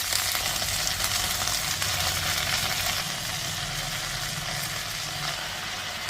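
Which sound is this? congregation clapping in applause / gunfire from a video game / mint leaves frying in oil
mint leaves frying in oil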